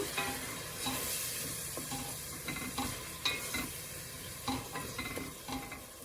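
Tomatoes for dal sizzle steadily in a pan while a spoon stirs and scrapes through them every second or so, close and fairly quiet, with no talking.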